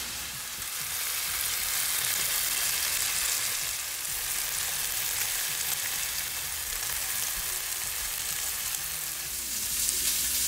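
Steak, a cheap cut seasoned with a coffee rub, sears in a hot pan, giving a steady, loud, close sizzle with a dense crackle that runs unbroken for the whole stretch.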